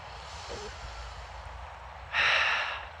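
One slow, deep breath close by during a calming meditation, a quiet airy inhale followed by a fuller, louder exhale near the end, over soft background hiss.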